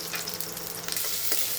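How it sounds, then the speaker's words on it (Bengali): Diced potatoes with salt and turmeric fry in a pan, giving a close, continuous sizzle with light stirring scrapes and no voices. "আলুগুলো একটু ভেজে নিচ্ছি ভালো করে।"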